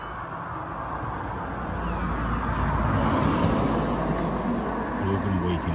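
Steady traffic rumble from cars on an old main road, heard from a quiet roadside spot as a broad continuous wash that swells slightly toward the middle.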